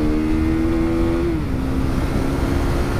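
KTM RC 390 single-cylinder sports bike held near its rev limiter: a loud, steady high-pitched engine drone that steps down slightly partway through, then holds again, with no talk.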